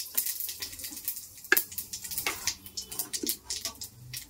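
Panch phoron spices sizzle in hot oil while a sajne (drumstick) flower curry is being made, giving a faint, crackling fry with scattered small pops and no talking.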